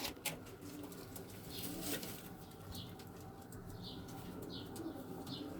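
Several tumbler pigeons coo softly in a loft, with brief wing flaps and scattered bird calls over a steady low background hum.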